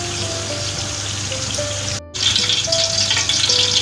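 Oil heating in a pan ahead of frying onions for Malabar chicken dum biryani, giving a steady near hiss broken by a brief gap midway before the sizzle returns a little louder.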